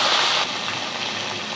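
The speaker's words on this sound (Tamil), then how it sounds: "ஆயில் வந்து சூடாகிடுச்சு வெந்தயம் போட்டுக்கலாம் பூண்டு போட்டுக்குவோம்" Fenugreek seeds and garlic dropped into hot oil in a kadai produce a loud, close sizzle that bursts at first and then settles into a steady frying hiss.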